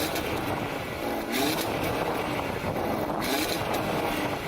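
A second-generation Audi RS3 held at high revs against its soft rev limiter, producing a loud, continuous, rasping engine roar with slight surges and dips throughout.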